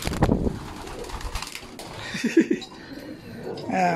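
Racing pigeons coo in soft, throaty bursts nearby after returning from a training toss, while people talk and move around at the same time.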